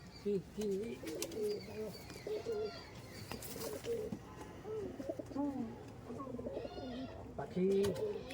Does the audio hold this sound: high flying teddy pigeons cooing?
yes